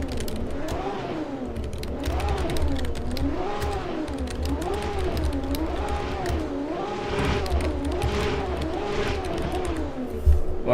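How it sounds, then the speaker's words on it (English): Race cars idling and revving on the grid in a Mid-Ohio sim racing video game, a steady wavering engine drone with rising and falling pitch throughout, loud and continuous. "Whoever's revving your engine, just calm down."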